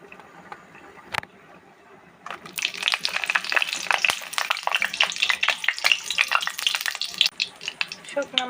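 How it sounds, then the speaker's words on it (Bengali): Two dried red chillies frying in hot oil in a wok, a steady crackling sizzle that starts after a quiet lead-in with a single clink and continues loud and close with dense spitting pops. "শুকনো মরিচ দুইটা ভালো করে ভেজে নেব"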